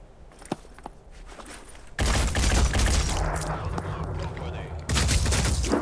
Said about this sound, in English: Oh, they know how to shoot back too.